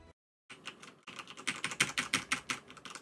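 Someone types on a computer keyboard up close, a quick rapid run of light clicking keystrokes after a brief silence, growing busier toward the end.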